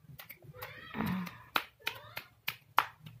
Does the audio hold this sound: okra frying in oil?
no